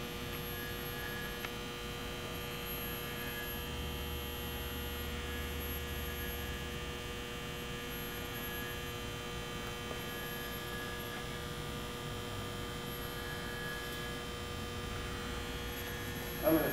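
An alt-alt telescope mount's motors slew at about 60 degrees a second, giving a steady, even hum that holds unchanged and fairly quiet for the whole stretch, with no talking over it.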